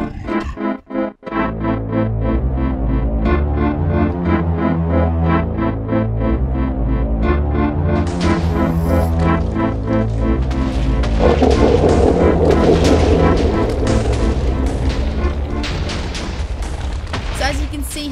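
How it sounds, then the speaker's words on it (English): Explosions burst as a boss demon is summoned in a Minecraft demon mod, heavy booms layered over dense, continuous game music for the whole stretch, growing busier and louder partway through. "There's lots of explosions going on."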